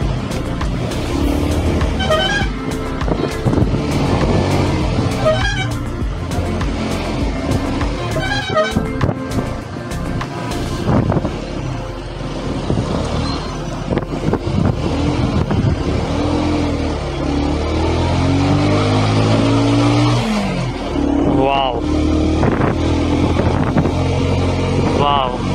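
Cars overtaking on the Bopdev Ghat road near Pune, loud engines and passing traffic with short horn toots, heard under ongoing talk.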